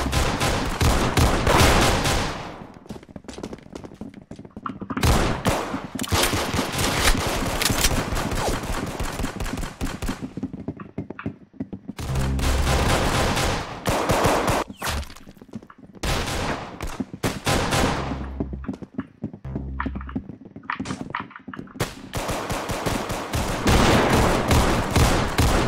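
Gunfire in Roblox Arsenal, loud close bursts of rapid shots broken by brief pauses, dense and continuous through most of the stretch with no talk.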